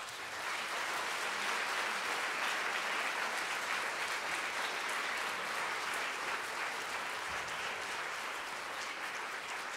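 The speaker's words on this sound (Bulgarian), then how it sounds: "нека приветстваме с аплодисменти домакините тази вечер" An audience applauds steadily to welcome the Ruse Festival Orchestra at the March Music Days festival concert, with dense, sustained clapping that fills the hall throughout and no voices over it.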